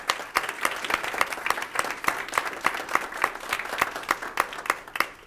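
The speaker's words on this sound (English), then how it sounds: "I think that deserves another round of applause" A modest crowd claps at a city council meeting, scattered individual claps ringing out in a steady, fairly even pattern for several seconds without anyone speaking.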